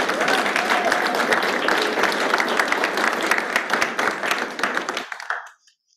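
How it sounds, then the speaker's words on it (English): Audience clapping fills a panel event about a river energy issue, a dense, steady round of applause from many hands that runs for about five seconds and then tapers quickly into silence. "just let everybody give a round of applause"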